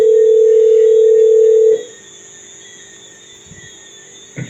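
A telephone dial tone hums steadily and loudly for nearly two seconds as a call is placed, then cuts out, leaving a faint line hiss with a small click at the end.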